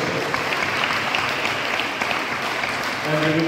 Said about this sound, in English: Let us give a round of applause for all our distinguished guests.